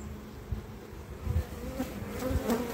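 Steady, low insect buzzing from a crowd of honeybees in a full nucleus hive, a constant hum with a few louder bursts as bees pass close.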